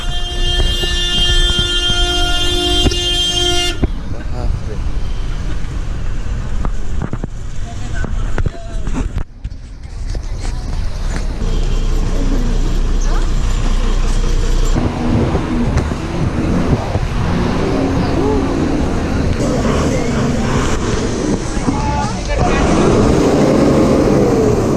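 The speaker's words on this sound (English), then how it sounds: "Typical bus park." A busy bus park in Nepal with idling and revving bus engines rumbling close by, a steady roar of traffic and crowd noise, scattered voices talking over the din.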